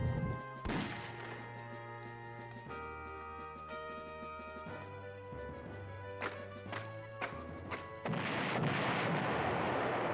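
Tank artillery fire in the retro PlayStation war game Panzer General, a series of sharp booming shots and impacts punctuating a low droning game soundtrack, ending in a louder, noisy burst of explosion-like crackle.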